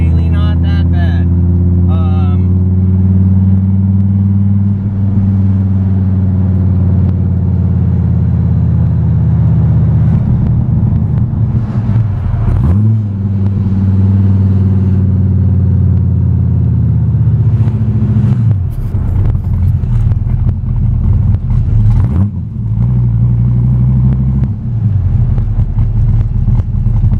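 Gen 5 car with an aggressive cam cruising around town below 2,000 RPM, a deep, loud, continuous exhaust rumble with slight rises and dips in pitch as it loads and eases off, close and steady throughout.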